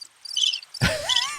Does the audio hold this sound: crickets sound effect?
yes